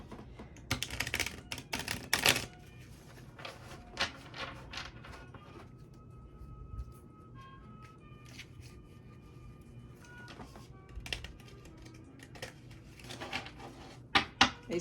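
A deck of cards is riffle shuffled up close in quick fluttering bursts of dense clicks, followed by quieter taps and shuffling handling noises in a calm room.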